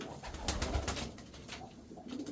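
Racing pigeons coo softly at close range, with low murmuring calls mixed with rustling and scattered clicks, faint overall.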